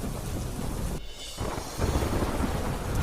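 Heavy downpour with rumbling thunder, a dense wash of rain noise broken by a brief lull before the roar returns louder, with low thunder rolling underneath.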